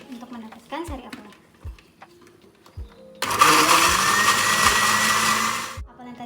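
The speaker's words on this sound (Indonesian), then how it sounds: "Sekarang akan kita blender untuk mendapatkan sari apel." A kitchen blender whirs loudly for about three seconds as it blends apple pieces with water into juice, starting abruptly after a stretch of speech and then stopping.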